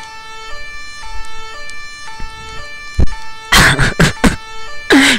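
A police siren wails in the Farming Simulator 17 video game, a loud, steady electronic tone sounding alone, later broken by bursts of louder engine and crash noise.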